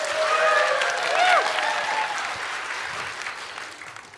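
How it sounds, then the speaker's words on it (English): A church congregation's green-room section claps together, a dense wash of hands that starts loud and slowly fades over a few seconds, with faint voices and tonal sounds mixed in. "Okay, green room claps"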